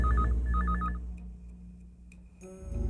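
An electronic telephone rings in two short trilling bursts, then falls silent, leaving a low room hum and a few faint clicks.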